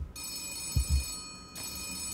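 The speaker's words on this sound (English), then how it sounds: "Suddenly the phone on Stahl's desk starts to ring." A desk telephone in Gerda: A Flame in Winter rings in bursts, a bright electric bell tone repeating clearly in a quiet office.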